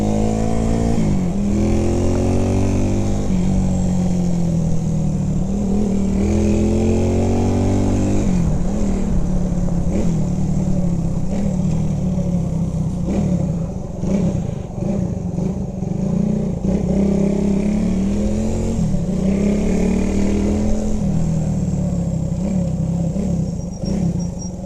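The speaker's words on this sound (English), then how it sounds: "Nice exhaust note on it." A 1975 Honda CB125S motorcycle engine revs repeatedly, its buzzing exhaust note climbing and falling in pitch in a series of close, loud throttle blips over about twenty-five seconds.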